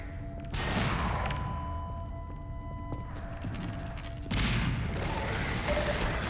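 A mounted gun emplacement firing in the Half-Life 2 video game, two dense, loud volleys with a pause between them, heavy and close, with a steady electronic hum running underneath and no voices.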